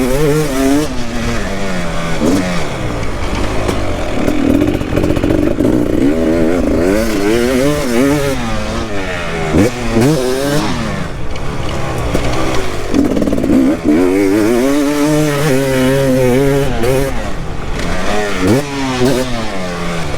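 A new Beta off-road motorcycle engine revved hard on the throttle, loud rising and falling wails repeating over about twenty seconds close to the listener.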